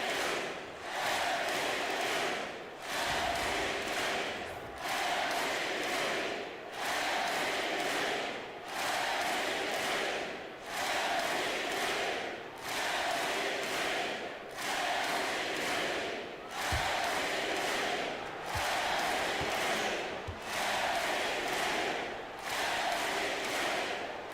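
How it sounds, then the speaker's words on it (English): Arena crowd cheering in the NBA 2K25 basketball video game during a playoff match, a loud, sustained roar of the crowd that swells and dips in regular rhythmic waves, as if chanting, throughout. "This crowd on the edge of their seats."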